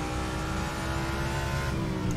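A Jaguar G3 race car in Assetto Corsa Competizione at Monza drones at a steady, loud engine pitch, a continuous high rev held without pause or speech.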